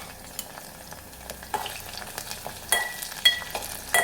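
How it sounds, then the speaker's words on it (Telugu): Green chilies frying in a pan for a village-style green chili roti chutney, a steady soft sizzle with scattered crackles and pops that grow sharper and more frequent toward the end, with no talking. "పచ్చిమిర్చి అయితే ఇంకా వేగిపోయాయి"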